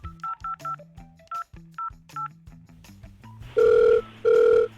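Telephone keypad dialing: a quick run of short DTMF beeps in an irregular rhythm, then two longer, louder tones, heard clearly and alone on a Hindi radio comedy show.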